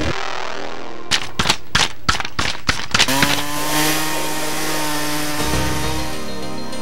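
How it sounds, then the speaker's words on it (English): Chainsaws cutting through storm debris in a Mid-South neighborhood after a windstorm, starting with a string of sharp revving bursts and then settling into a loud, steady, continuous whine, close by and with no talking. "By Thursday, chainsaws and cranes became welcome noises in nearly every Mid-South neighborhood."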